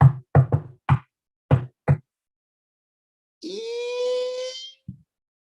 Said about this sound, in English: there was a knock at the palace door